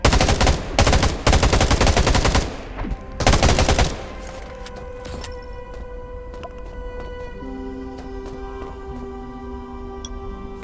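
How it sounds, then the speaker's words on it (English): Bursts of rapid automatic gunfire in the zombie-survival game Undawn crackle loud and close for a few seconds, then stop, leaving quieter ambient tones and faint ticking. "I'm worried that the sound of those gunshots just now might draw even more zombies here"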